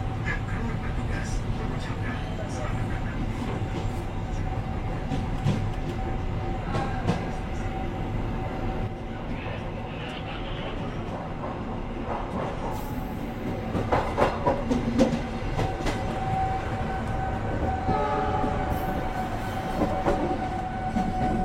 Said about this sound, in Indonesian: pukul 22:15 kereta api Jayabaya berangkat dari stasiun Pasar Senen